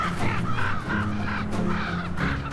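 Repeated harsh cawing from several ravens in the Arctic wilderness as a wolverine feeds nearby, a steady series of rough calls over a noisy outdoor background.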